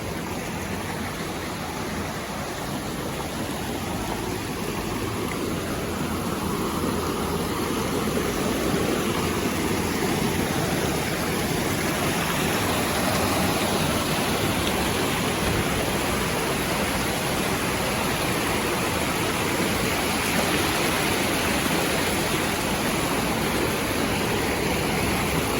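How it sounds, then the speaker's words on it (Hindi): Loud, steady rush of the Riva waterfall and a fast-flowing stream near Solan, Himachal Pradesh, a dense continuous roar of falling and churning water heard close up with no voices. "पानी का बहाव काफी तेज है"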